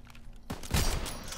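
A new gun fires in a sniper battle video game, giving a sudden close burst of gunfire that swells into a loud, rumbling crack and then a lingering echo.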